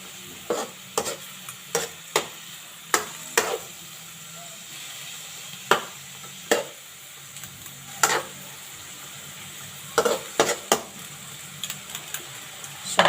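Pork adobo being stirred in a pan: repeated scraping clinks of a utensil against the pan in irregular strokes over a steady background sizzle, with occasional quiet talking.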